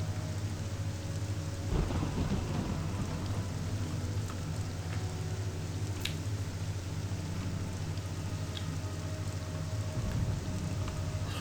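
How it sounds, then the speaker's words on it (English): Heavy, steady rain pours down in The Elder Scrolls III: Morrowind, a dense wash of noise with low thunder rumbling underneath and swelling near the start and again toward the end. "And there's some crazy rain."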